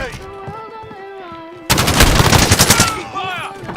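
Online shooter game gunfire: after a stretch of voiced talk, a sudden loud burst of rapid automatic fire lasts about a second and a half, then fades as talking resumes.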